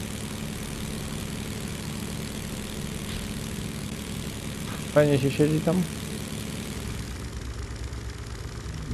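Engine running in The Sinking City, a steady low drone that persists throughout, with a short spoken question from a man partway through.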